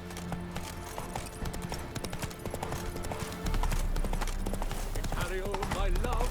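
In The Witcher 3: Wild Hunt, horse hooves clip-clop in a steady rhythm while riding, mixed with game music and ambient background sound.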